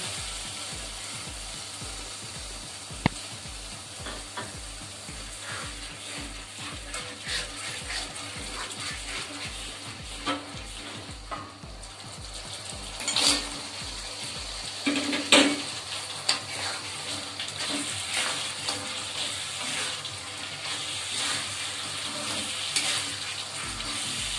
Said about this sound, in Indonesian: Kalau bumbunya udah harum seperti ini, saya beri sedikit air.